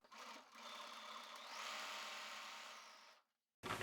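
Sewing machine backstitching to lock a half-inch seam on a summer hat, a steady close motor hum that rises partway through, then stops, followed by a brief bump at the end.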